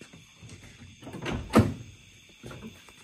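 A car door on a yellow Dodge Charger 500 with its rod off the door, pulled open with a muffled thunk and clunk of the latch near the middle, alone and close.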